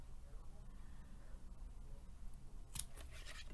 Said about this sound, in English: These are my junkie scissors